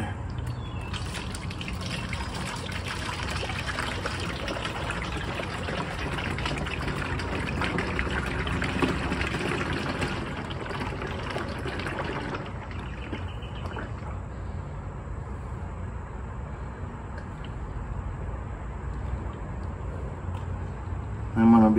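Motor oil pours in a steady, gurgling stream through a funnel into the engine of a 2021 Honda Ridgeline during an oil change, heard up close and continuously, thinning slightly toward the end.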